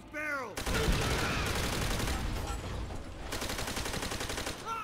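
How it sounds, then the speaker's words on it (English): Dense sustained gunfire fills a Call of Duty: World at War firefight as barrels are shot, loud continuous bursts layered with shouting voices for nearly five seconds. "Shoot those barrels."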